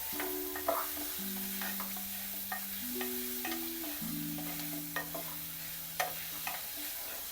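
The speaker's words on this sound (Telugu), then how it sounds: "నేను ఇప్పుడు పసుపు, కొంచెం అల్లం పేస్ట్ వేసి మళ్ళీ బాగా కలుపుకుంటున్నాను." Turmeric and ginger paste being stirred in hot oil gives a soft, quiet sizzle with light spoon scrapes, while a few sustained electronic tones run underneath and no one speaks.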